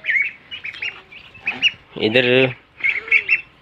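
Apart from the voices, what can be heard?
hens squawking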